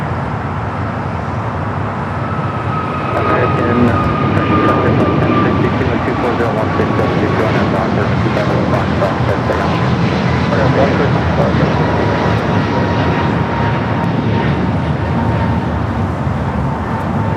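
An American Airlines Airbus A321neo XLR jet at LAX, a broad roar of jet engines building and holding steady at a distance while people talk over it.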